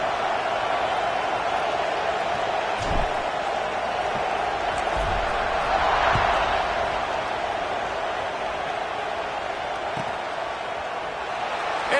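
Steady crowd buzz in a college football video game, a broad, even murmur of a stadium audience with faint cheering, holding at a moderate level for the whole stretch.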